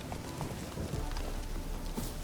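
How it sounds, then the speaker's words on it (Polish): Horse hooves clip-clop in The Witcher 3 on PS5, a faint rhythmic trot of soft thuds under steady ambient game noise. "Mamy konia."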